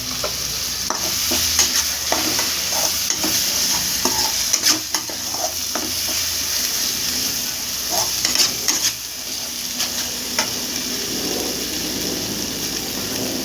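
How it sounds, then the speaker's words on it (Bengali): Tomato paste sizzles and fries in a pan of spicy Bengali chicken curry while a spoon stirs it, a dense steady crackle broken by frequent scraping clicks and knocks, close and fairly loud, with no talking. "এবার আমি টমেটো বাটাটা দিয়ে দিলাম"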